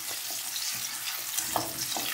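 Chillies and onions frying in a pan as the base for upma, a dense continuous sizzle with several scraping stir strokes on top, close and moderately loud.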